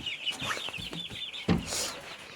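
Hens cluck softly and repeatedly at close range among their chicks, with scattered higher chirps from the chicks and a brief louder squawk partway through.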